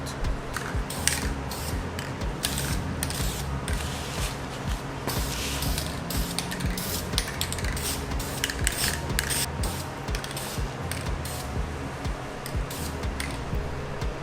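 An aerosol can sprays paint onto Type R Brembo brake calipers from an Acura RSX DC5, close to the microphone. Repeated hissing bursts follow each other in a quick, steady rhythm over low workshop noise.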